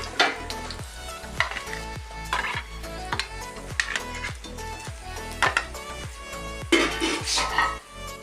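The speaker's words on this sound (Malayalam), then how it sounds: "നമ്മൾ വെച്ച വാഴക്കുടപ്പൻ്റെ കട്ട്ലേറ്റ് നന്നായിട്ട് ഫ്രൈ ആയി" Banana flower cutlets fry in hot oil with a constant sizzle, broken by repeated sharp scrapes and clinks of a utensil against the pan, close and fairly loud, with no voices.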